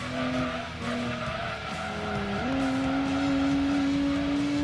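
A Nissan touring car in Gran Turismo 2 slides into oversteer, its tires skidding in a sustained squeal over the steady engine drone. The squeal shifts pitch partway through and runs loud and continuous to the end, with no talk.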